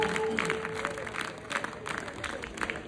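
A crowd claps at a gurukul gathering for a 26 January event, a steady, moderately distant patter of many hands with a faint sustained tone running underneath.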